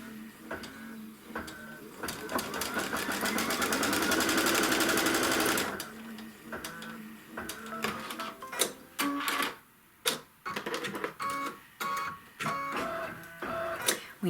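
A Kimberbell embroidery machine stitches a trim line, first a sustained rapid whirring run, then a string of short mechanical bursts and clicks with brief pauses between them, close and loud.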